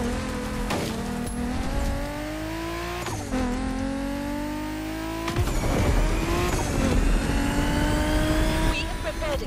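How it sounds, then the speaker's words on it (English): A BMW Z4 M40i in The Crew Motorfest: the engine revs up and drops through repeated gear shifts, loud and steady, with a voice talking over it. "We have prepared a classic for you from a very famous German brand, the BMW Z4 M40i."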